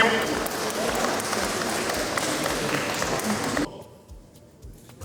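A crowd applauds a male contestant at a speed dating event, dense clapping mixed with cheers and chatter, loud and sustained before cutting off abruptly near the end.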